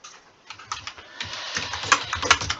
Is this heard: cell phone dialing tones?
no